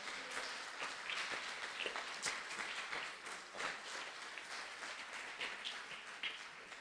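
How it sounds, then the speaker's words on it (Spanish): A church congregation applauds during a sermon, producing a soft, sustained patter of many hands clapping that stays fairly distant and even for about seven seconds. "Denle un aplauso a Cristo, por favor."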